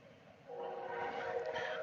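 Out in Chicago a train passes, its low rumble swelling halfway through into a louder sustained roar with tonal whistle-like bands, fairly distant and alone without voices.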